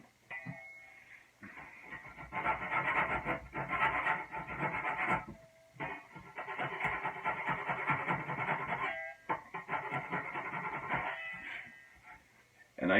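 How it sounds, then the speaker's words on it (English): A back saw cuts wood by hand during small work on a 30-foot dory build, producing steady rasping strokes in several long bursts separated by brief pauses, close and fairly loud with no talking. "I use this back saw"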